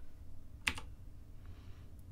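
A computer keyboard gives a quick double tap of keystrokes, sharp and close, over a low, steady background hum.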